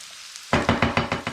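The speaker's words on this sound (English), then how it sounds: "I'm just going to push the onion around to brown it." Onion and minced beef frying for a spicy Bolognese, pushed around the pan after a brief quiet start: five or six close, rhythmic scraping swooshes over a steady sizzle, with no talking.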